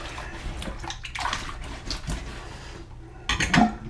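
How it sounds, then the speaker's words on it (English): Water splashes and sloshes while rinsing white leather work boots in a basin, a close, irregular run of splashing with a louder burst near the end. "and now just rinse all that off."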